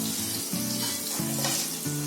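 Whole spices sizzle steadily in hot reused oil in a kadai, making a continuous, close frying hiss that stays loud and even from start to finish with no voices.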